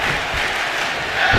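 Crowd cheering in the wrestling video game Chippy Wrecker Pro during a tag team match, a loud continuous roar of many voices swelling slightly at the end.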